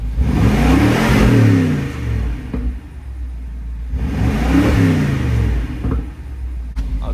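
A BMW X6M engine revs hard twice, each rise climbing to a loud roar and falling back to a deep idle, close by.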